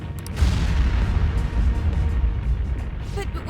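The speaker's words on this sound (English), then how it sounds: "An explosion?" A deep, rumbling explosion in the video game Persona 5 starts with a sharp burst and then booms for several seconds. It is loud and close, with brief voices near the start and end.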